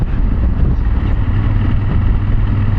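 Steady, loud engine drone with heavy low rumble and wind buffeting from a Yamaha Ténéré motorcycle cruising at speed on an expressway, continuous with no pauses.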